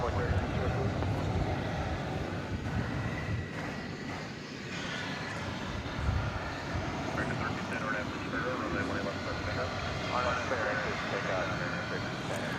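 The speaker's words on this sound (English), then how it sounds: "So the plane on the left, I do believe, is American Flight 1310 and Airbus A321" An American Airlines Airbus A321 at DFW Airport at night gives a steady, broad jet roar from a distance while someone talks over it.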